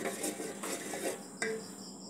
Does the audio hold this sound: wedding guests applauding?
no